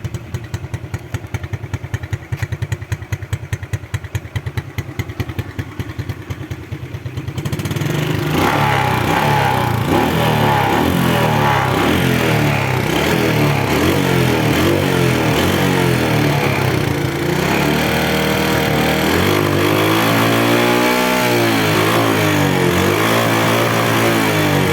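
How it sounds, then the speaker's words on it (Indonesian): A 2007 motorcycle engine putters in a rapid idle, then roars louder and keeps running with repeated rising and falling revs, close and loud throughout. "Motornya seperti ini, bisa lihat hidup semuanya, layak pakai untuk pengaritan"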